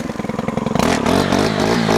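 A gas weed whip string trimmer cutting grass, the motor pulsing in quick revs before settling into a steady, loud whine with scraping clatter as the line chews through growth.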